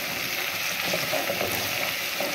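Ginger and garlic frying with onions in a pan, a constant loud crackling sizzle with light bubbling and no voices over it.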